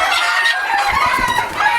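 A small bantam chicken on a fancy poultry farm clucks loudly and close by in a steady, busy run of calls, with no voices over it.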